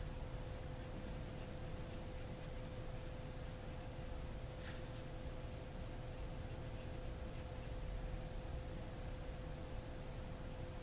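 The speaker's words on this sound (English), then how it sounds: "you can do this just making little circles of pencil" A pencil shades in small circles on paper, a faint, steady scratchy rubbing that continues quietly and evenly, with one brief sharper scrape partway through.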